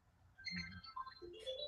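A phone rings with an incoming call, a faint electronic ringtone of short melodic tones rising over a low background hum.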